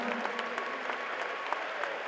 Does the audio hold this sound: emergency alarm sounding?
no